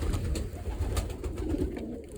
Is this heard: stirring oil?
no